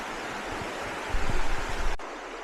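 Steady broadband rush of a river flowing beside the Foothills Trail between Burrells Ford and Cheohee Road, constant and fairly loud with a brief swell, no voices.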